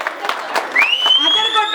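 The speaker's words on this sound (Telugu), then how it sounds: "చప్పట్లు కొట్టండి" Scattered claps from a crowd at a Sankranti festival celebration by a Telugu community association, with a few sharp hand claps followed by a long, rising whistle carrying over them.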